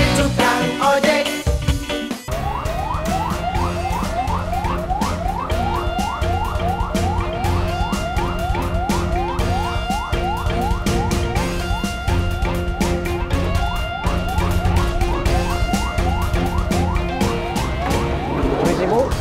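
A loud wailing ambulance siren cycles rapidly and continuously, close and persistent, with traffic-like rumble underneath after a brief burst of noise at the start.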